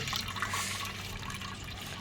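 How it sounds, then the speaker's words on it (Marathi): Water draining off soaked rice being prepared for traditional rice papad, a steady close trickling and pouring that runs continuously without speech. "पाणी सगळं काढावं लागतं"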